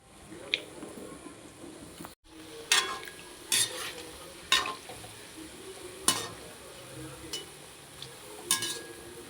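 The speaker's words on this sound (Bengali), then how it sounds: "আমার তালের বড়াগুলো লাল লাল করে ভাজা হয়ে গেছে।" Palm fritters (taler bora) frying in oil until reddish make a low, steady sizzle, punctuated by repeated scraping stirs and spatula knocks against the pan every second or so.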